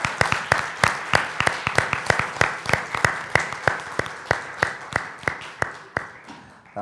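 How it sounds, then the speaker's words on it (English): Audience applause at an equity and inclusion community event, a steady run of close, sharp hand claps in a fairly regular rhythm that thins out toward the end, with no voices over it. "a round of applause for you, and also for the Equity and Inclusion Office for this event"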